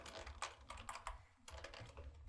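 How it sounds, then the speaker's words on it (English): Very quiet typing on a computer keyboard, with irregular bursts of clicking keystrokes and short pauses between them, close but faint, with no talking. "you can actually just start typing"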